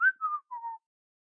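A person whistles a short three-note tune that glides downward, each note sustained, close and clear against silence. The whistle imitates a shop clerk whistling.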